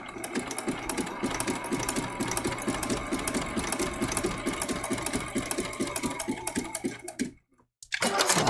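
Home sewing machine stitching down a fabric giraffe appliqué for a baby quilt, steady rapid needle rhythm running close and loud for about seven seconds, a brief stop, then the motor starts up again.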